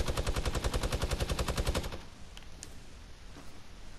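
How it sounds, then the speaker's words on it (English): A Fortnite minigun fires a rapid, continuous buzzing burst for about two seconds, loud and close, then stops, leaving faint scattered game sounds. "Minigun."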